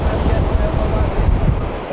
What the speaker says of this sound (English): our sandbar where the waves are breaking out there, it's really shallow